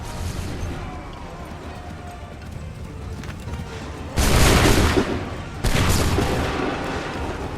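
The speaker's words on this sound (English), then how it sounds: "Make ready! Fire now!" Musket volleys in Assassin's Creed III, two loud, broad bursts of massed gunfire a second or so apart, each trailing into a rumbling decay over a busy battlefield bed of shouting and hoofbeats.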